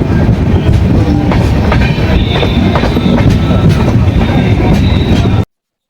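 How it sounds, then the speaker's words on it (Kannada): A passenger train on the Pune to Prayagraj route rolls along at speed with a steady loud rumble and rhythmic clickety-clack of wheels on rails, occasional metallic squeals, then cuts off abruptly. "ನಮ್ಮ ಟ್ರೈನ್ ಎಷ್ಟು ಚೆನ್ನಾಗಿ ಹೋಗ್ತಾ ಇದ್ದೀವಿ ನೋಡ್ರಿ"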